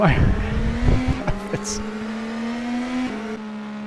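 IndyCar race cars lap Watkins Glen in a racing video game: a sustained high engine whine that shifts pitch slightly, with brief tire squeal and bumps early on, while a commentator talks over it.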